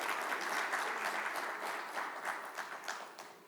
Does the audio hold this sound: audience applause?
yes